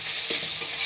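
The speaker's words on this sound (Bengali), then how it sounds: "আমি একটু বেশি সময় শাকটা ভাজা ভাজা করতেছি।" Red amaranth leaves fry in a pan for a vegetable dish, with a steady hiss and a few soft stirring scrapes across a short moment, close and fairly quiet with no talking.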